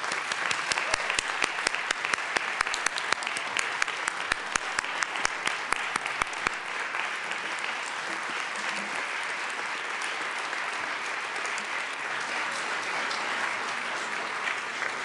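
Applause from legislators in the Colorado House of Representatives chamber, a dense steady clapping that starts with sharper individual claps and settles into a continuous wash lasting the full stretch.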